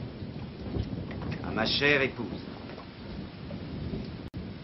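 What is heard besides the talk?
rain falling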